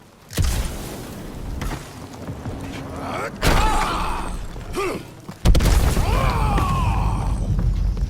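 Heavy booms, thuds and rumbling crashes as Drax topples a stone ruin in Marvel's Guardians of the Galaxy video game, coming in several loud impacts, with voices speaking between them.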